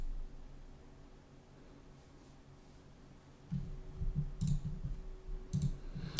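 Computer mouse clicks while setting up a site online, a few sharp isolated clicks standing out over a low steady room hum, fairly close and moderately loud.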